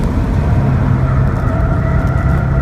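A 2016 Ford Focus RS accelerates uphill on a race track at Circuit of the Americas, its engine a loud, steady low roar heard from close by and held throughout.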